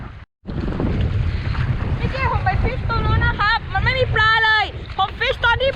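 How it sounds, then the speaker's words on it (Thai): Strong wind roars into the microphone by the water on a fishing trip, a heavy, constant rumble that barely lets up, with someone talking over it for much of the time. "ลมมันแรงมากผมไม่รู้จะได้ยินไหมครับ"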